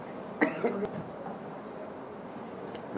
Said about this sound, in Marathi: जरासा खोकला कमी करतो.